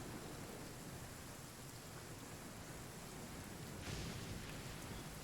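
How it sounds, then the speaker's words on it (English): Steady broadband rain falls in the Genshin Impact video game, a dense, even hiss with a slight swell near the end and no talking. "it starts raining out of nowhere"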